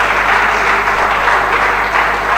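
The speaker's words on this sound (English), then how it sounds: "may we give a round hand of applause to the Young Lawyers Forum NBA Port Harcourt branch" A crowd at a young lawyers' forum gathering applauds in a dense, even wash of clapping that holds steady throughout.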